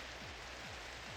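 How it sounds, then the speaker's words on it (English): Steady rain falling in the Minecraft video game, a constant even hiss with no voices. "And it's still raining."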